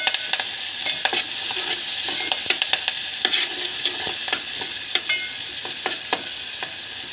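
Curry leaves roast in a pan with green spice paste for kadhi: a steady close sizzle of frying, broken by repeated sharp scraping taps of a spoon stirring. No one speaks.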